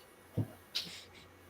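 A house cat gives two short meows close by, a low one followed by a higher, brighter one, against a quiet room with faint background hum.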